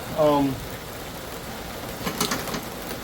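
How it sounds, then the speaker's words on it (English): Storm rain falls as a steady, even hiss that continues throughout, with a brief voice speaking at the start. "It is storming."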